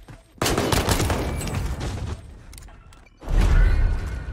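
Bursts of rapid gunfire and heavy booms in Call of Duty: Warzone Pacific, loud close volleys with a brief lull before another heavy barrage.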